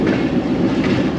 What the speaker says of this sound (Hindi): और ट्रेन हमारी लूप लाइन पे आकर रुकेगी यहाँ पे।